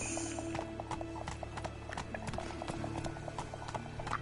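Roach the horse galloping in The Witcher 3, a quick, steady clip-clop of hooves with a brief whinny over a constant low game hum, with no talk.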